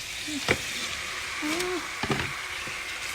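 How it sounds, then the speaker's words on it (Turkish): Chicken meat fries in a pan with a low, steady sizzle and a few sharp utensil clacks, while a faint voice-like murmur sits in the background. "Bunu böyle güzelce kavuracağım arkadaşlar"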